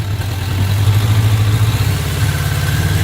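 A 1994 Suzuki Katana 600 (GSX600FR) motorcycle idles close by at around 2,000 to 2,500 rpm, a steady, loud low engine drone with an even pulsing throb throughout and no voices.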